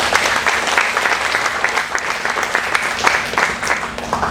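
A crowd of workers at a Chevron safety stand-down applauds themselves, steady dense clapping filling the room from start to finish without talk.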